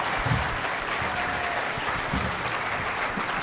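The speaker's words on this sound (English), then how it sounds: "Can we get one more round of applause for these awesome teachers?" Steady, full audience applause for teachers at a high school scholarship award assembly, close and continuous throughout with no break.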